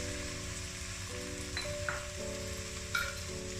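Roughly chopped tomatoes sizzle steadily in ginger garlic paste and spices in a hot pan, a continuous close frying crackle with a few brief stirring scrapes.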